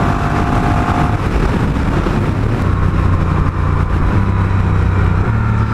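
Honda Rebel 1100 motorcycle with DCT dual clutch transmission at full power, a loud steady engine drone with a pitch change around the gear shift, heavy wind rush over it.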